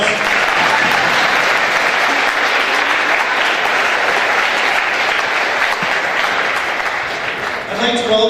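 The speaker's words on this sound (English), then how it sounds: "Let's give our honored athletes a nice round of applause." Audience at a high school games opening ceremony applauding its honored athletes, a loud, dense, sustained clapping that holds steady before tapering off, with a voice briefly surfacing at the very end.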